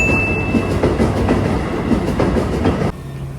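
A train rolls past a Japanese railroad crossing with loud, close clickety-clack of wheels over rail joints in a steady rhythm, then cuts off abruptly near the end, leaving a low hum.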